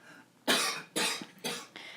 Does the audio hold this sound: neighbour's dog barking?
no